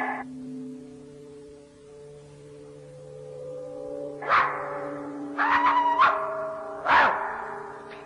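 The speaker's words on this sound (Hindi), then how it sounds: "ये तो कुत्ते की आवाज थी।" Three sharp dog barks, spaced a second or so apart, cut through a steady low droning hum.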